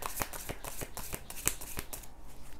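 Tarot cards shuffled by hand for a reading, a quiet run of soft riffling snaps close by, no voices.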